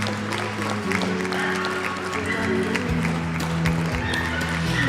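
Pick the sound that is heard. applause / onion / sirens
applause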